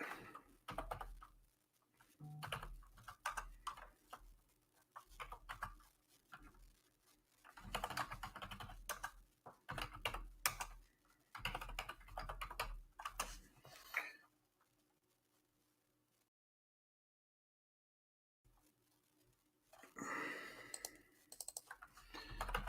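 Rapid clicking of a computer keyboard being typed on during a live futures day-trading session, in irregular bursts up close, with a few seconds of silence near the end before the typing resumes.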